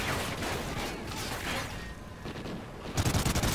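Dense machine gun fire in Call of Duty: Ghosts, a loud continuous burst of rapid shots filling the whole stretch and turning sharper and more clipped toward the end.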